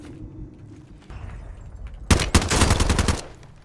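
Automatic gunfire in the video game Warzone, a loud burst of rapid shots in two close volleys lasting over a second, following quieter background game noise.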